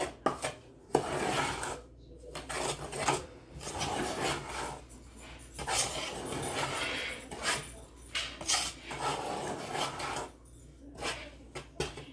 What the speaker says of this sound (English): Mix all these ingredients around really well and blend them the best you can